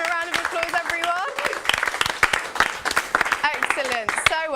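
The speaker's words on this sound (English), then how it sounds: "Let's give him a round of applause, everyone." A studio audience gives a round of applause at a television broadcast, sharp scattered claps running under loud whoops and lively voices talking over them.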